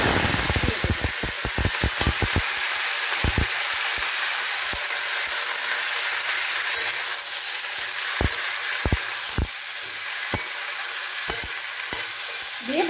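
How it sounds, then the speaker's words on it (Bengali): Ingredients for a jujube mixed chutney fry in hot oil with a constant loud sizzle, punctuated by a rapid run of stirring scrapes and knocks, then slower spaced strokes. "এবার এর মধ্যে সবগুলো আমি গরম তেলে"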